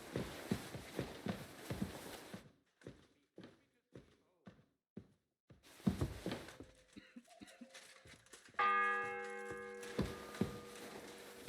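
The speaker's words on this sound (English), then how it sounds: "The fourth bell." A church bell rings in the medieval game Kingdom Come: Deliverance 2, entering near the end as a sustained, resonant tolling after a stretch of footsteps and speech.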